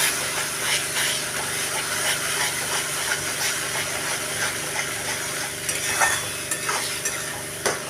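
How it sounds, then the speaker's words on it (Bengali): Green banana peel mixture with turmeric, salt and green chili paste being stirred in a pan, a steady scraping and stirring with a continuous frying hiss underneath and occasional sharper scrapes, no voices. "আবারও এটাকে ভালো করে আমি মিশিয়ে নিচ্ছি।"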